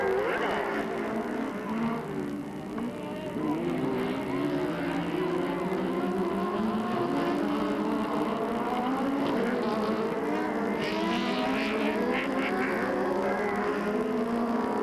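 Dwarf cars race around the Delta Speedway oval in 1997, their engines a constant, fairly distant roar with rising and falling pitch as the pack circles, plus a brief higher scrape near the end.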